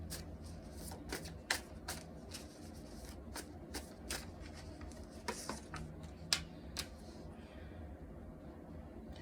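Tarot cards being shuffled by hand, a run of crisp riffling flicks and soft slaps in an irregular rhythm, close and moderately quiet over a low steady room hum.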